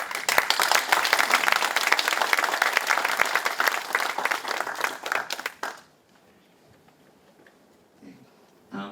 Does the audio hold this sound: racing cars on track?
no